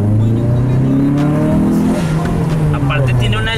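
A Dodge Neon with no catalytic converter revs hard, its deep, throaty exhaust rising and falling in loud, close bursts that fill the whole stretch, with someone talking over it.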